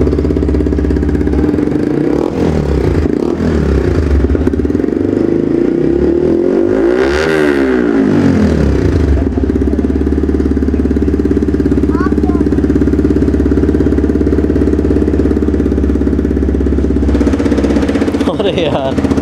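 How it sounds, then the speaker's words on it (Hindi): A Yamaha R15M motorcycle with an Akrapovic exhaust and bend pipe idles loudly up close, then revs in a sharp rising and falling burst before settling back to a steady throb, with voices partly over it. "सो यहाँ पर हमारा बैंड पाइप विद एग्जॉस्ट आ गया है, तो आप फटाफट से इसकी आवाज़ भी सुन लेते हैं"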